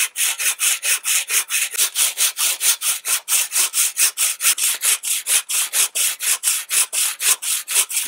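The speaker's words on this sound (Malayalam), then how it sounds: "നമ്പർ ഇടാത്ത ഭാഗങ്ങൾ നമുക്ക് കട്ട് ചെയ്ത് കളയാനുമാണ്." A hand saw cuts through a marked piece of wood in a fast, even rhythm of about three rasping strokes per second, loud and close, with no talking.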